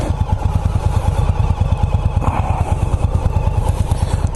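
Indian Scout Bobber motorcycle being ridden, a loud, steady low engine rumble with dense rapid pulsing and some clatter, close and continuous throughout.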